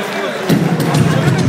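Crowd at a Milan freestyle rap battle breaks into loud applause and cheering that swells suddenly and holds steady, a dense close wash of clapping and voices.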